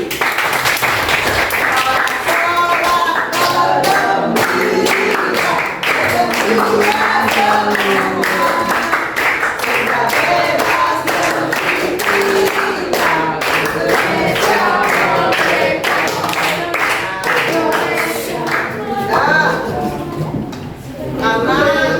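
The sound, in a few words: class applauding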